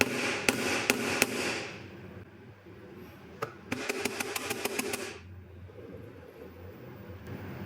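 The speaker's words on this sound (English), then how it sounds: "We can now hammer that back on. Rubber mallet, always the best type to have." A rubber mallet taps metal shims back onto a lathe in a workshop: a few spaced knocks, then a quick run of rapid blows, fairly close and moderately loud over a low background hum.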